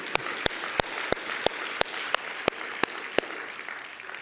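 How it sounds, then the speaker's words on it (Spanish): A church congregation applauds during a sermon, producing dense, sustained clapping from many hands at a fairly loud level, with sharp, evenly spaced louder claps standing out over the crowd roughly three times per second. "Dale un fuerte aplauso a Él."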